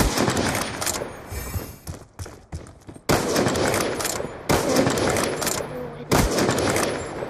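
Rapid bursts of video game gunfire from a 1v1 sniper versus machine gun match, dense volleys clustered in blocks with short gaps between them, loud and close.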